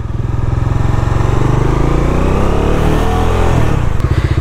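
A modified Bajaj Dominar 400 motorcycle rides past loud and close, its engine holding a deep, throbbing drone that rises slightly, then clatters briefly near the end.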